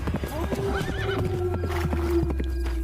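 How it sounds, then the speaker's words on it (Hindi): Horse hooves clip-clop at a steady pace as a rider travels on horseback, with a horse whinnying clearly over a continuous low background tone. "घोड़े पर सवार होकर ज्ञानचंद दूसरे राज्य की सीमा में चला गया"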